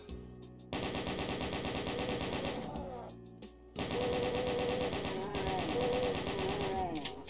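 Chaingunner enemies in a Doom WAD hammer out rapid, rattling bursts of chaingun fire, loud and nearly continuous with a short lull midway, layered over dense game music and effects.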